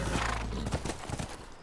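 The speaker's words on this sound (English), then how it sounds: "That's our horse." Horse hooves clop briskly along, followed by a short neigh, all fairly close and clear, in The Last of Us on PS4.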